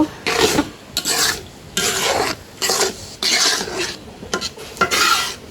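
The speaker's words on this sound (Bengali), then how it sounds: "এখন সুন্দর করে একটু নাড়া দিয়ে দিব" Moong dal in a pot is stirred with salt and turmeric, giving close, rhythmic bursts of spoon scraping and sloshing with short pauses between strokes, with no talking.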